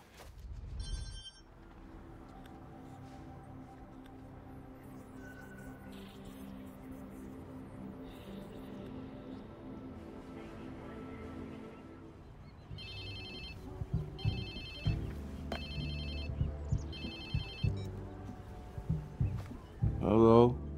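Phone ringing in the video game Watch Dogs 2, a repeated electronic ringtone in bursts that starts after about thirteen seconds of quiet game ambience and music, fairly loud and close.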